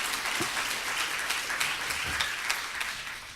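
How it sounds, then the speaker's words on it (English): Conference audience applauding during a talk on the purpose of schooling, soft, fairly distant clapping spread through a hall, steady but faint, with a couple of low thumps mixed in. "please clap for that"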